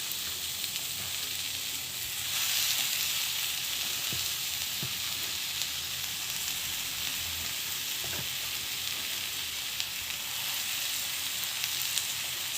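Potatoes sautéing and being smashed in a hot pan for aloo sagu masala: a steady, close sizzle throughout, with a few soft thuds and scrapes as the potatoes are pressed down.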